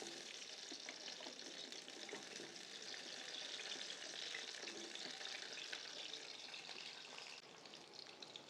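Whole onions fry in hot oil for a beef curry, giving a steady, even sizzle that holds for several seconds with no voices.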